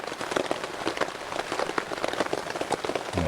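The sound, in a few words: heavy rain falling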